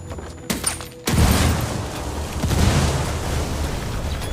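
A frag grenade blast in Ghost Recon Wildlands booms after a brief clatter, then a long rumbling roar and crackling debris fill the rest, loud and close, with no talk.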